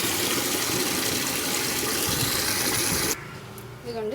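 Water gushes steadily from a tap into a container for an onion-peel plant booster, loud and unbroken for about three seconds before cutting off, leaving faint dripping and trickling afterward.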